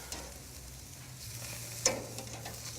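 Steak sizzling on a seasoned grill as it is turned, a steady low crackle and hiss with a brief sharper flare when the meat goes down.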